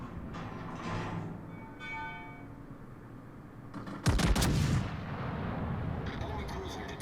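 World of Warships battleship salvo from the Japanese tier 8 battleship Yumihari: one heavy, booming gun blast breaks out abruptly and rumbles on for a moment over steady in-game engine and sea noise.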